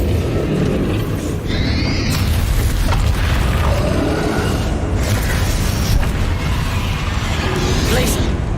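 A Bombarda spell blasting in Hogwarts Legacy, deep booming explosions and crunching, rattling debris layered over a constant loud rumble of game effects, with a few sharper bursts standing out.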